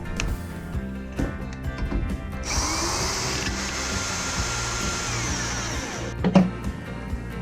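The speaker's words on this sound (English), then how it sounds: "a bigger drill bit, when I was trying to make the hole a little bigger" A high-pitched electric drill whines steadily for several seconds, close by, enlarging a hole with a bigger bit, with clunks and rattles before and after the run.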